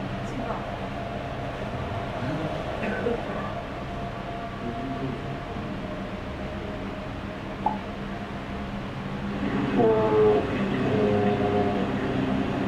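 Interior of a train riding through the countryside about four hours outside Tokyo, a steady rumbling hum with faint clatter and a brief knock, rising slightly toward the end, as people talk quietly in the background.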